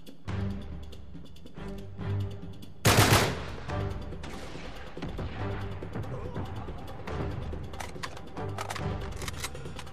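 Sniper gunfire rings out in the Uncharted 3: Drake's Deception video game in a Syrian town, with repeated sharp shots and one loud burst amid dense game battle noise and music.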